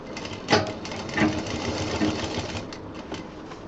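A sewing machine stitches a zip onto a college bag, running in short, close, rattling bursts with brief pauses between them.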